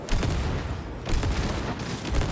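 Repeated booming blasts from grenades in a shooter video game, a dense run of loud explosions and gunfire-like cracks that keep coming back over a couple of seconds.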